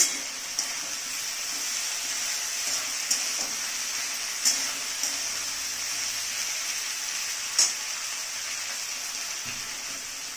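Vegetables including capsicum sizzle quietly in a pan over a raised flame, a steady soft hiss broken by a few sharp pops and clinks.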